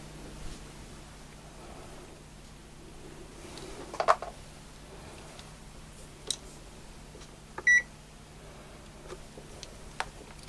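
A Zotek ZT-5566ES talking multimeter gives a short, clear electronic beep during a continuity test, a single bright tone near the end of otherwise quiet handling with a few faint clicks.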